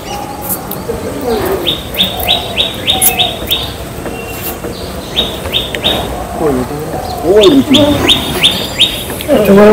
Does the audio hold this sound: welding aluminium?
no